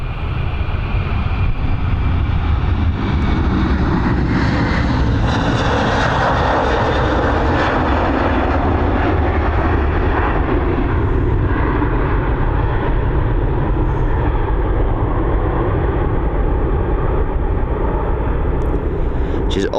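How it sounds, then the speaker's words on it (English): An Airbus A330 takes off from Dublin Airport, its jet engines producing a loud, steady roar that fills the whole stretch, close and continuous as the aircraft departs. "Here we go, we've got this Airbus A330 now on departure."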